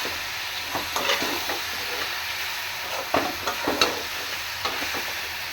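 Food frying in a pan (kadai) is stirred continuously, a steady sizzle broken by repeated scraping and knocking strokes of the spatula against the metal, close and fairly loud, with no voices.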